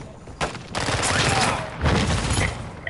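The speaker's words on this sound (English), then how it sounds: "Stop shooting at me." Heavy gunfire in a Call of Duty match on Ashika Island, a dense chattering barrage of automatic shots that swells and recedes in loud waves, with brief sharp bursts standing out close by.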